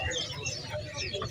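Cucak kembang songbirds at a busy bird market stall, giving short bright chirping calls among other birds, with someone talking under a steady crowd murmur.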